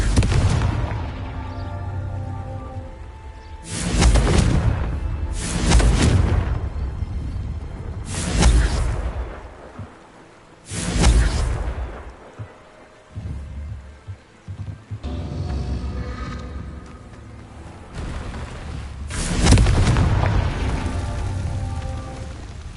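Confringo spells detonate in Hogwarts Legacy, a series of about six loud booming blasts spaced a few seconds apart, each decaying into a rumbling tail.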